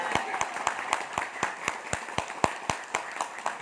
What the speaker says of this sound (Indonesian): Tapi tepuk tangannya tidak ikhlas